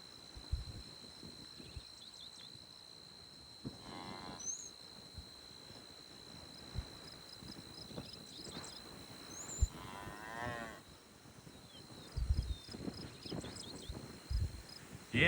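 A newly born, still-wet calf moos in two drawn-out calls, with faint insect chirping behind it outdoors.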